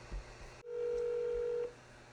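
Telephone dialing and ringback before a call about a used Hyundai Ioniq: a short burst, then one steady ringing tone lasting about a second, clear and close.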